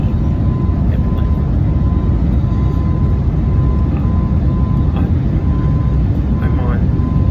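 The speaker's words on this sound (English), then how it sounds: "I'm on the Philadelphia airplane" Steady, loud airplane cabin drone on a flight out of Philadelphia, a broad constant engine rumble with faint background sounds over it.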